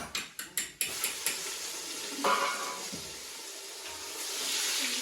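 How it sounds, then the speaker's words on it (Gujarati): Garlic dropped into hot oil already seasoned with cinnamon, cloves, asafoetida and turmeric, giving a steady close sizzle after a few sharp clanks of a pan and utensil at the start. "તજ લવિંગ અને હિંગ અને હળદર આપણે તો તેલમાં જ નાખી દીધી હવે આપણે નાખશું લસણ"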